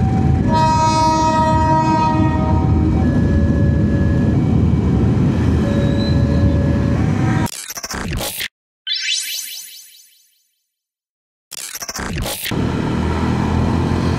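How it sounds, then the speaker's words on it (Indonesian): A morning train rumbles loudly past close by, wheels squealing with a high sustained whine, then the roar cuts briefly before returning. "kereta pagi nih."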